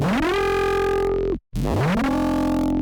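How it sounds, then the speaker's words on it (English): A buzzy Serum synthesizer saw tone with a sweeping resonant filter, played twice with a brief silence between, bright and harmonically rich. "If we were to add a resonance here, you can see how that resonance colors the sound"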